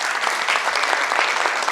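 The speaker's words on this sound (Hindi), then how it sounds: "तालियों से हम स्वागत करना चाहेंगे" An audience applauds to welcome the chief guest at a ballet performance event, a thick, steady wash of many clapping hands, sustained and fairly loud with no pauses.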